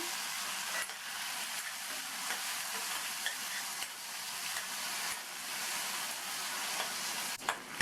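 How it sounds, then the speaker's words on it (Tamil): Finely chopped tomatoes and chillies sauté in a pan for cabbage chutney, giving a steady, close sizzling hiss with occasional spoon scrapes and stirring knocks, no voices. "இந்த தக்காளி நல்லா வதங்கி வரட்டும்"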